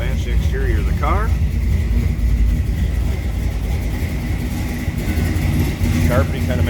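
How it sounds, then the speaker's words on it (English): A 1957 Chevrolet Sedan Delivery street rod's V8 idles with a continuous low, even rumble while someone talks over it close by. "Listen to that healthy V8 underneath the hood."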